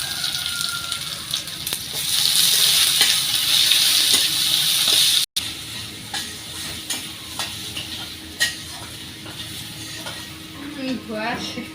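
Chopped onion fries in hot oil in a wok, a loud, even sizzle for about five seconds, then quieter stirring clatter and soft clinks fill the rest of the kitchen scene.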